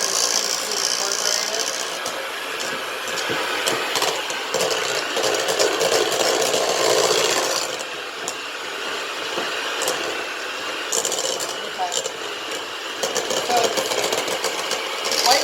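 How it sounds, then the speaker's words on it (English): Electric mixer straining as it beats butter for buttercream, a continuous loud grinding, rattling whir that holds steady throughout with slight fluctuations. "You can tell by the sound of my mixer"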